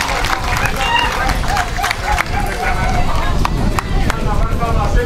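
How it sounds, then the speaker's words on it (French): Market traders at a fish market clap together in a crowd, a steady dense wash of applause with scattered sharper claps and background murmur throughout. "Oui, les commerçantes, avec vos applaudissements,"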